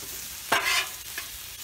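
Cheesesteak meat and potatoes cooking on a Blackstone griddle, a soft background sizzle broken by a brief scraping stir of a spatula and a second lighter scrape.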